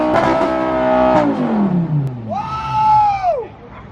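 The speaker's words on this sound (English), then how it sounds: "That's that Italian exhaust system right there." A Maserati GranTurismo MC with a straight-piped exhaust revs hard, raspy and loud, climbing and falling in pitch, then a second sharp rev rises and drops off.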